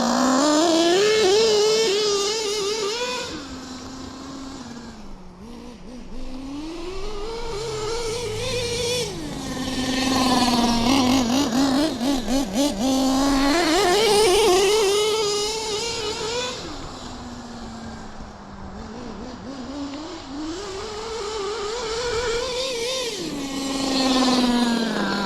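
An XTM Mammoth ST nitro RC truck races with a high, buzzing two-stroke-style whine. The pitch climbs repeatedly as it accelerates, then drops sharply as the transmission shifts slightly early. The engine is loud and close, with the revving cycle repeating several times.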